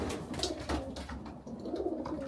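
Pigeons coo in an 8 by 6 shed with a small aviary attached during breeding season, with soft, low, close cooing calls repeating in short phrases at a fairly quiet level.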